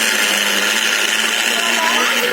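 Mixer grinder whirring at full speed as it powders jaggery with a soya mixture, a loud, steady, high motor whine with a rattling grind that runs unbroken throughout.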